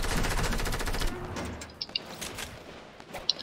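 Rapid bursts of gunfire from a gun in Fortnite, played in Zero Build mode, crack out loud and close for about a second, then fade into scattered quieter clicks and pops.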